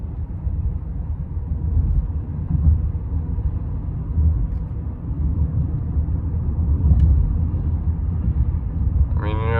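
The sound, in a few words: 2004 Lexus LS430 driving and shifting gears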